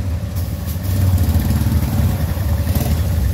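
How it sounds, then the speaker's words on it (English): A quad bike engine warms up at a steady idle near the Giza pyramids in Egypt, rough and clattering, with a slight rise in loudness partway through and no talk over it. "make sure the engine's warm"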